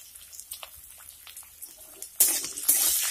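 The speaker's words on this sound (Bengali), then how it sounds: "এখন আলুগুলিকে নেড়ে চেড়ে ফ্রাই করে নেব।" Cut potatoes with turmeric and salt hit hot oil in a pan, setting off a sudden loud close sizzle that swells again moments later after quieter scattered clicks and stirring, with no talk.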